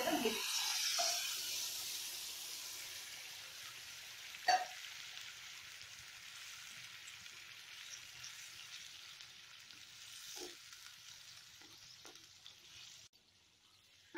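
Papaya chutney with sugar syrup sizzles softly in a pan, a faint steady hiss broken by a few sharp utensil knocks and stirs, fading slightly before going quiet at the end.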